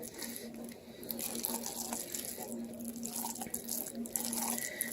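Vinegary pickle juice is poured from a jar in a home kitchen, giving a faint continuous trickle and splash with small drips throughout and no speech.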